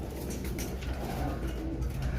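Pigeons cooing at the Shahdra pigeon market, soft repeated throaty coos over a dense low hum of market background, fairly close and steady.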